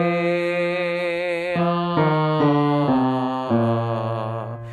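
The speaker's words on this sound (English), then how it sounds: "an open fifth to start with sounds like this" Sustained open fifth interval in clear tones, held notes stepping between pitches in a slow sequence, steady and close with no talking.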